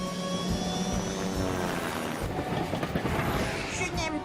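The cartoon Fireman Sam rescue helicopter Wallaby 1 lifts off, a loud continuous rotor-and-engine roar that churns and builds throughout, with a busy mix of rumbling layers and some brief higher whines toward the end.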